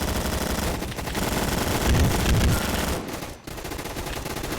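Rapid automatic gunfire from a shooter video game, a sustained rattling burst with a brief break near the end before firing resumes, close and loud with no talking.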